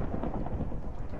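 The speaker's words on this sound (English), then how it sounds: "Why is he getting hit by lightning?" Lightning strike thunder during a dragon fight in modded Minecraft, a loud continuous low rumble with a crackling rain-like wash filling the whole brief moment, alone without talk.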